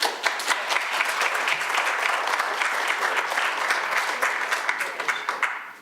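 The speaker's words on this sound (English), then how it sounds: "let's just give him another round of applause" An audience at a town hall on income security reform applauds steadily for about six seconds, a dense, even patter of clapping that tapers off at the end.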